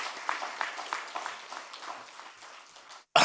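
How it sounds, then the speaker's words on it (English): Audience applause at an awards ceremony, a fairly soft, thinning patter of many hands that fades out, then a sudden loud burst of sound at the very end. "I think that deserves a great applause from the rest of them."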